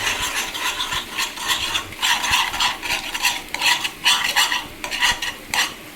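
Egg gets stirred into Maggi noodles in a pan, with rapid, uneven scraping and clinking strokes over a light sizzle, close and clear.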